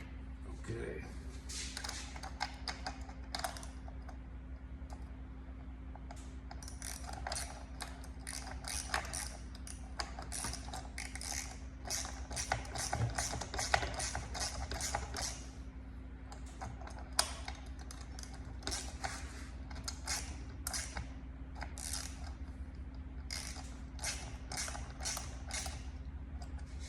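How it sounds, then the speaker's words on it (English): A hand wrench ratchets in rapid clicking bursts while a creeper seat is assembled, with light creaks and metal handling between the bursts and a steady low hum underneath; people talk at times. "Let's use that wrench again."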